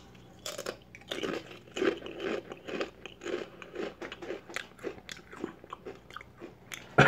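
Close-up crunching and chewing of crunchy blue hot chips, a steady run of brittle bites and munches heard alone.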